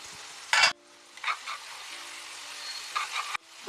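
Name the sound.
fish egg curry simmering in a pan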